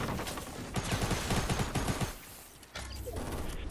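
Rapid bursts of video game sniper and gun fire crackle loudly for about two seconds, then drop to a lower, steady din of continuing shots and game noise.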